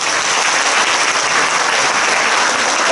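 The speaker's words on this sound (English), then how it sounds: "Can you give them a big round of applause?" Loud, sustained applause from a large audience at a business success-sharing event in Singapore, continuous and even throughout with no talking.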